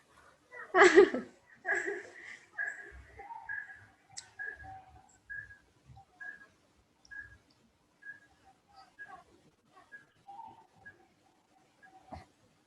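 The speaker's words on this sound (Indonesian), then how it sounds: "Ini yang pelihara perkutut siapa ya? Dari tadi bunyi terus ini." A zebra dove's soft, repeated cooing sounds at a steady pace, faint and somewhat distant, with a few louder bursts of noise near the start.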